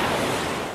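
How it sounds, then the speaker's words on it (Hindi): A steady wash of surf noise, like ocean waves rolling in, broad and constant for a brief moment with no other sounds. "समंदर की आवाज और तेज होती जा रही थी।"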